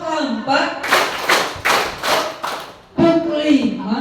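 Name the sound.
students clapping in counted rhythm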